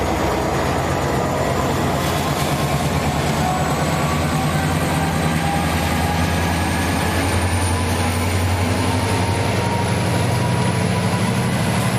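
A VRE commuter train pulls away at night with a steady, heavy low rumble and a rising whine, continuous and fairly loud throughout.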